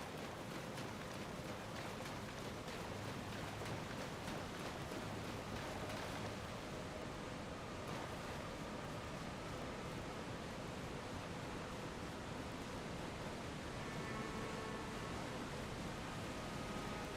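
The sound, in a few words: waterfall in video game Elden Ring, Nokron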